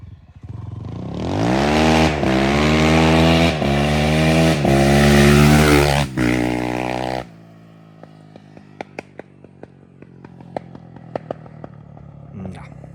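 A 2024 Kovi Lite 300 motorcycle engine revs loudly and close while riding, rising and falling through several gear pulls. After the throttle closes, a string of sharp exhaust backfire pops and crackles follows.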